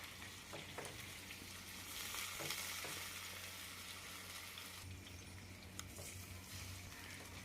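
Stuffed eggplants (bharli vangi) fry and sizzle steadily in a pan, with occasional scraping and stirring noises, close and continuous throughout, with no talking.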